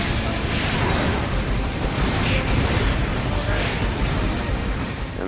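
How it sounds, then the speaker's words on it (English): Grenades go off repeatedly in the Gundam Breaker video game, a dense run of booming bursts and crashes packed one after another at a steady loud level with no pauses between them. "In the meantime, I'm being consistently pelted and pounded by grenades."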